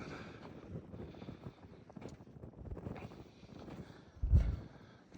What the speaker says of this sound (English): it's a brisk day today. That wind is fucking cold.